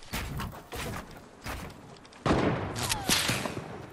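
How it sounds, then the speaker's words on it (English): Sniper rifle shots in Fortnite Battle Royale gameplay: several sharp, loud cracks spaced across the clip, the final ones heaviest and followed by a lingering tail, with no talk. "someone's sniping me in the back"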